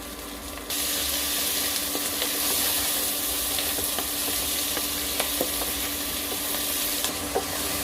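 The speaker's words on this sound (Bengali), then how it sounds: "এগুলোকে আমি ভালো করে নেড়ে চেড়ে কষিয়ে নিচ্ছি।" Chilli chicken masala sizzles steadily in a pan, a constant hiss broken by light scraping taps as it is stirred and fried close by.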